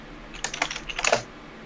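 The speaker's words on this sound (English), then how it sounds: "I'm gonna be typing, so I'm gonna be on mute, so you guys don't have to listen to me type." A burst of computer keyboard typing, quick irregular clicks clustered over about a second, close and fairly clear against a quiet room with no talking.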